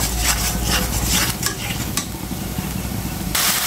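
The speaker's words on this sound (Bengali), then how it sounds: "দিয়ে দিচ্ছি কিছুটা আদা বাটা, সুন্দর করে কষিয়ে নেব।" Spices and ginger paste stir-fry in a pan for a jackfruit kofta curry, giving a steady loud sizzle broken by scraping stirs of a utensil, with no talking.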